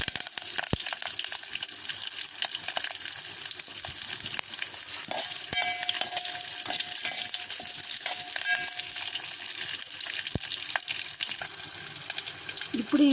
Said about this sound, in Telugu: బాగా ఫ్రై చేద్దాం.